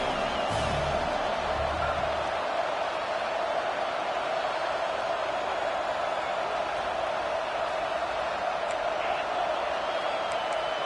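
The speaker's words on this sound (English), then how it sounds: "The crowd is roaring, trying to help this defense on fourth down." A college football video game crowd roars steadily at a late-game fourth down, a dense, loud, unbroken wall of stadium noise.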